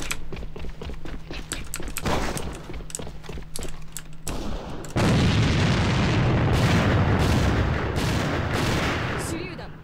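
Grenade blasts and gunfire in the online shooter Alliance of Valiant Arms, during a quick-match elimination round: loud, dense booming bursts that swell into a sustained roar in the second half, with a voice talking over the action.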